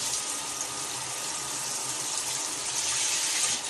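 A steady, even spray of water from a shower head fed by an immersion pump in a van, its jet shooting about 40 cm. A constant near hiss with no pauses and no voice.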